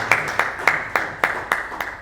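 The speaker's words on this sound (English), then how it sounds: "I think he deserves another round of applause." Scattered, fairly sparse handclaps from an audience at an education report launch, about seven distinct claps over two seconds, moderately close and without talk.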